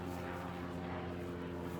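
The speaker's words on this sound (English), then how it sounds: "I want to give my thanks and praise to that helicopter above me." A helicopter passes overhead outdoors as a faint, steady, droning engine hum with a low rumbling throb and no talk.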